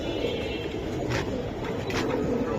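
Silver Giribaz pigeons give soft, faint cooing against a low, steady background murmur, with a couple of brief brighter rustles.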